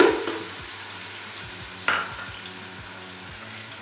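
Garlic ginger paste frying in a pot for chana pulao, a soft continuous sizzle with a brief stir or scrape near the middle, over a low repeating background hum.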